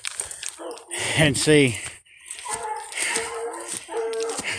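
A hunting dog bays and barks loudly at night on a coon hunt, sharp repeated calls with a drawn-out howl, while hunters talk nearby.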